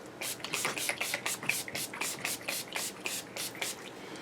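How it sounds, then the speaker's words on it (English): Urban Decay All Nighter setting spray misted onto a face, a rapid series of about a dozen short hissing pumps in a steady rhythm, close and fairly faint. "now for my trusty Urban Decay All Nighter Setting Spray"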